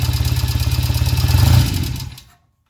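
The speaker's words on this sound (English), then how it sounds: "we got it running, so maybe I'll take it for a ride here" A 1975 Norton Commando Mk3 motorcycle engine runs close by, a steady rapid throbbing pulse with mechanical clatter that swells slightly, then dies away and stops just before the end.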